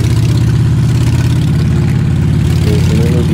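A Harley-Davidson motorcycle engine idles up close with a steady, loud, low rumbling throb that holds throughout, without a clear rev.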